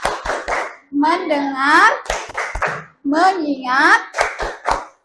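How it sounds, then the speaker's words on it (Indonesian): Children in a primary classroom perform a call-and-response focus routine, short sharp unison hand claps in rhythmic clusters alternating with chanted words led by a teacher's voice. "Tepuk fokus."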